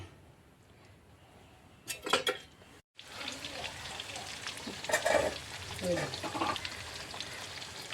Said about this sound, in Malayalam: കടുക് വറുക്കാം